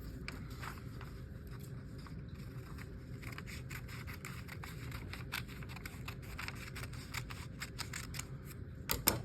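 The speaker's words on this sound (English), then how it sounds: "So we're gonna cut off this part right here." Scissors snip through rectangular paper being trimmed into a square for a paper snowflake, a quiet series of close, crisp cuts and rustles over faint room noise.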